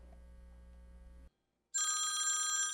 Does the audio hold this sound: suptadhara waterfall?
no